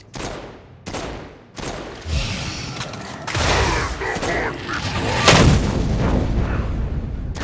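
Bursts of weapon fire from the Saints Row: Gat out of Hell video game ring out in rapid, overlapping volleys with heavy booms, loud and continuous throughout.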